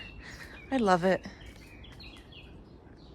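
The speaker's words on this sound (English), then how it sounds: "You can hear the birds chirping" Birds chirp in a backyard in Portugal, faint high tweets scattered through the moment beneath a woman's close speech.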